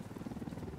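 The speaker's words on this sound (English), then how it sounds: "Chopper inbound." A helicopter arrives in the video game Ghost Recon Wildlands, heard as a brief, steady low rotor thrum at moderate volume with no voices.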